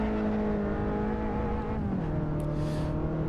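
A race car in Assetto Corsa revs and accelerates with a steady engine drone, its pitch falling briefly at a gear change before climbing again, loud and close with no talk.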